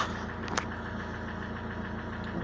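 A cold Renault Velsatis 2.2 dCi diesel idles steadily, with a rapid, even ticking knock from its hydraulic lifters running under the hum, fairly quiet and constant.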